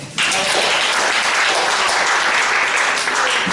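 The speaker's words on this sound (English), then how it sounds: "Y'all keep on clapping." A crowd at a city district community meeting claps, starting abruptly and continuing as a loud, even burst of many hands that holds throughout.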